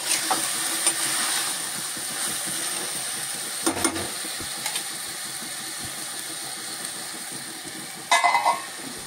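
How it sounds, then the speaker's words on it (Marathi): A vegetable mixture for a fresh pavta bean usal is stir-fried in hot tempering. A steady sizzle runs throughout, with a few scraping stir noises and a brief clatter near the end. No one speaks. "आता हे मी फोडणीवर सगळं परतून घेणार"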